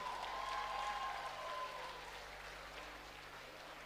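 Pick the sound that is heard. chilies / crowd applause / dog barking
crowd applause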